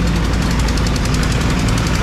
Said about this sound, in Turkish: Burada iş makineleri çalışıyor.